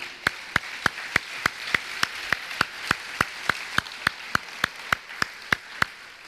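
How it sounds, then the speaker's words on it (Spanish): Rhythmic unison clapping by a church congregation applauding the Lord, sharp evenly spaced claps at a steady tempo, about three per second, loud and close with no talking. "Dale un aplauso al Señor"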